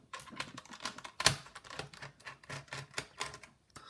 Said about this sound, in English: Now it's time to start unscrewing all the screws from the bottom here.